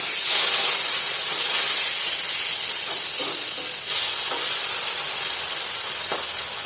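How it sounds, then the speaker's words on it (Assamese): Fish frying in oil in a kadai, a steady close hiss and sizzle with occasional soft crackles and spatters running throughout, no voices. "কেৰাহী পাতি লৈছোঁ মাছখিনি ভাজি লওঁ প্ৰথমে"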